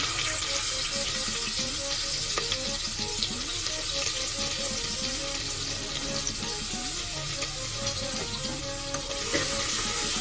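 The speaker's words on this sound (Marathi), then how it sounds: "तर आता बऱ्याचपैकी तेल आपलं गरम झालेलं आहे. त्याच्यानंतर मग आपण कांदा टाकूया त्याच्यात." Chopped onion sizzles and fries steadily in hot oil in a home kitchen pot for dal khichdi, with occasional stirring scrapes, close and continuous, no talk.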